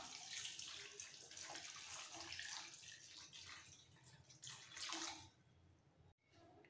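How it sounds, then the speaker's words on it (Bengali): Warm water poured over 250 grams of small paneer cubes in a bowl, a soft, steady splashing pour heard close but quietly, cutting off abruptly near the end. "এর মধ্যে দিয়ে দেবো উষ্ণ গরম জল"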